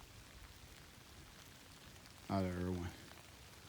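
Steady rain falls around a hiker on the Appalachian Trail, a soft continuous hiss close by, with someone speaking briefly partway through.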